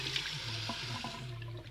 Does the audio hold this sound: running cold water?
yes